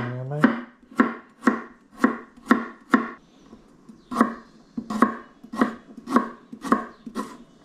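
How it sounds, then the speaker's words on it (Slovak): A knife slicing carrots on a cutting board, about a dozen crisp, evenly spaced chops with a short pause midway, close and clear with no talking. "Mrkvu bedrne nakrájame."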